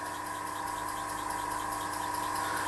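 A restored Empire B-30 model steam engine, running as an engine only without its boiler, gives a steady close-up mechanical whir with a fast, even rhythmic chuff and a constant tonal hum throughout.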